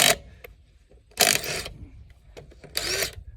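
An impact or power tool spins off lug nuts on the rear passenger wheel of a 1964 Chevrolet Impala in a shop, with three loud bursts of whirring and rattling separated by brief quiet gaps and small clicks.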